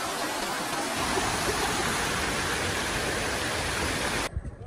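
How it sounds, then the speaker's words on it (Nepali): A large mountain river rushes below a bridge as a loud, steady broadband roar that fills almost the whole clip and stops abruptly near the end. "यहाँ एकदम ठुलो खोला छ पुलमा छु"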